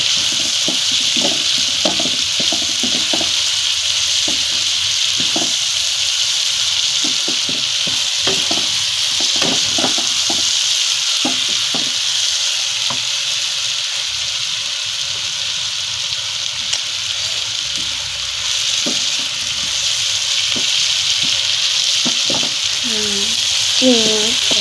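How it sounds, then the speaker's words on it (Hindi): Ground ginger, garlic, green chili and tomato fry in a pan for a smoky mash-chana daal, giving a steady close sizzle with a spoon stirring and scraping at intervals throughout. "इसको 5 मिनट तक फ्राई करेंगे।"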